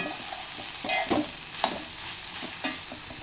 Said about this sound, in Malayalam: ഇത് നമ്മളൊന്ന് ഇളക്കി കൊടുക്കണം കേട്ടോ